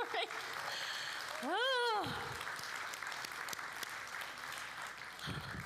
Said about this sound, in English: Let's just clap for a minute and give God the glory.